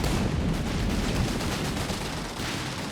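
Artillery and machine gun fire in Company of Heroes 3 roar as a steady, loud barrage of overlapping shots and blasts with no clear gaps.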